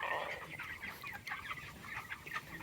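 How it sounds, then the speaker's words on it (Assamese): Broiler chickens clucking in a poultry shed, a dense, continuous chorus of overlapping clucks and chirps at steady level, with no speech. "আৰু এইবাৰ ব্ৰইলাৰ প্ৰথম পুহিছোঁ।"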